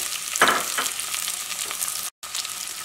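Onion, ginger and garlic sizzle steadily in hot oil for a soya chunks roast, with a dense crackling hiss and a couple of louder stirring bursts near the start, then a short dropout before the sizzle resumes.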